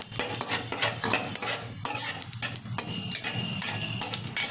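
Dried red chilies torn in half and nigella seeds sizzle in hot mustard oil for a jute leaf fry, with steady crackling and repeated scraping stirs of a utensil against the pan throughout.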